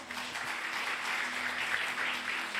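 A church congregation claps for God during a sermon, a steady wash of dense applause from many hands filling the room throughout.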